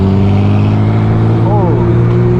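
A turbocharged Porsche GT2 RS engine runs at a car meet as a loud, close, steady deep drone with a brief rising tone partway through. Voices are mixed in.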